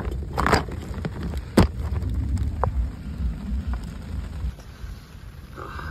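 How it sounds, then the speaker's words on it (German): Rain falls on the bank of the Rhine on an autumn fishing trip, a steady soft hiss with scattered crackling drops and a few sharp knocks, moderately loud and without voices. "Jetzt regnet es auch noch."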